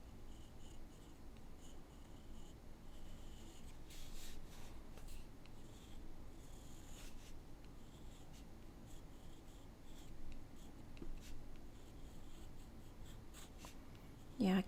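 A pen with ink scratches across paper during urban sketching, soft continuous scribbling strokes close up and faint, with brief pauses between lines.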